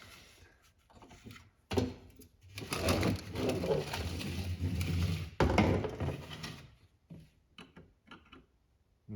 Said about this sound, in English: I'm just going to work it back and forth.